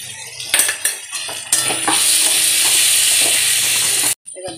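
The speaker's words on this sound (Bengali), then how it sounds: "এবার দিয়ে দেবো কুচিয়ে রাখা পেঁয়াজ। দেখো রসুন আদার সঙ্গে ভেজে দেবো ভালো করে।" Chopped onion with garlic and ginger, cooking for a Chinese vegetable chicken, starts with a few utensil clinks in a pan, then breaks into a loud, steady close sizzle with stirring scrapes before it cuts off; no one talks.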